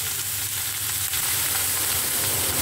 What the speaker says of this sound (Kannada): ಇವಾಗ ಎಲೆಕೋಸು ಇದಕ್ಕೆ ಹಾಕ್ಕೊಳ್ಳೋಣ, ಸ್ವಲ್ಪ ಬಾಡಿಸ್ಕೊಳ್ಳೋಣ, ಎಣ್ಣೆಲೇ ಬಾಡಲಿ ಇದು